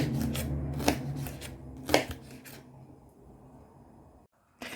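Knife chopping eggplants and sweet peppers on a board for a sauté, a run of close, crisp cuts with a couple of sharper strikes, then a short pause and one more burst at the end.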